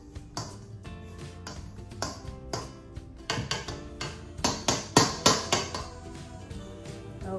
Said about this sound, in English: So the pastry cutter is what it's going to be.